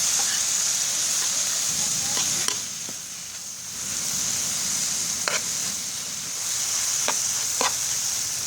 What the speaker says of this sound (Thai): ไม่ต้องไฟแรงเกินเดี๋ยวผัดนานๆหน่อยเดี๋ยวให้ น้ำของแตงกวามันจะออกมาเองครับ